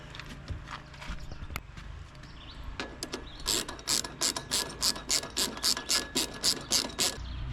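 Fiamma F45S 10 ft awning brackets being bolted onto a Eurovan with a ratchet, starting with scattered clicks and handling noises, then a steady run of loud, close, evenly spaced ratcheting bursts, with no talking.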